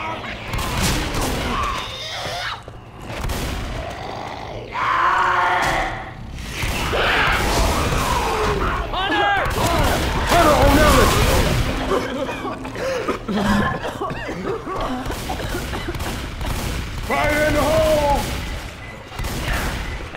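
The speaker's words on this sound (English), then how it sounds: "Hey, let's stop shooting each other, please." Gunfire in the video game Left 4 Dead 2 crackles in repeated bursts and volleys, mixed with players talking and laughing throughout.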